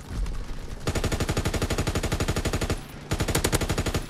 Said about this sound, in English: because you can wallbang with LMGs, because they are LMGs after all